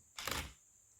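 A single camera shutter click from a tripod-mounted camera taking an exposure-bracketed shot, a short near burst with a slightly drawn-out release, alone against quiet room tone.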